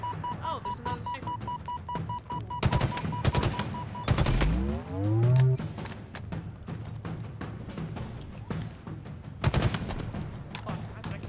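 Gunfire aimed at a sniper in the video game Halo Infinite, several loud close bursts of rapid shots separated by gaps, with a whooshing sweep and game background noise between them.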